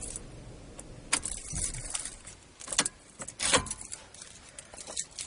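A 2012 Mazda 3 i Touring is switched off while car keys jangle close by, giving several metallic clinks and rattles over a low cabin background, with a couple of sharper knocks.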